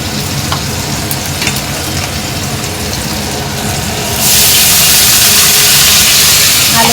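Onion and spices frying in a pan for a fish-head dal, a steady close sizzle and crackle throughout that swells into a louder, brighter hiss partway through.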